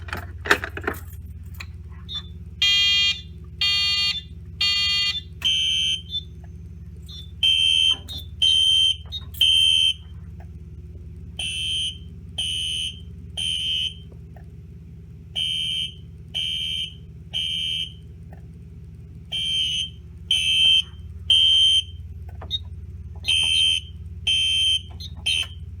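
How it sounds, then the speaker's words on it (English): Fire alarm notification appliances sound during a wall test, giving repeated bursts of sharp, bright electronic tones in steady groups with short gaps between them, loud and close over a low constant hum. "the alarms are silenced, but the strobe is still flashing"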